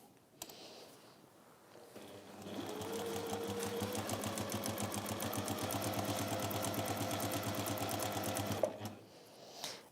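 A sewing machine stitches a pouch seam in a workshop, starting with a few clicks, then running in a fast steady mechanical whir of needle strokes for several seconds before stopping with a soft clunk, close and alone.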